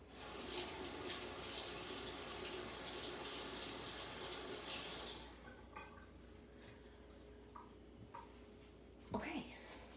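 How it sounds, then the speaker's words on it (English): Running water from a tap splashes steadily while hands are washed in a kitchen sink, then it shuts off around the midpoint, leaving scattered small knocks and a brief voice near the end. "Wash my hands."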